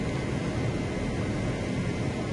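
A PC-9A turboprop trainer climbs after takeoff in a flight simulator, giving a steady, dense engine and airflow roar with no breaks.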